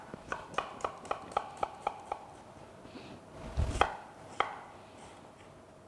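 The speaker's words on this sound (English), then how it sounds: "What I'm going to do is chop it roughly." An onion being roughly chopped with a sharp knife on a board: about a dozen quick, crisp taps in a steady rhythm, then a pause with a low thump and a few louder, scattered cuts, close and clear.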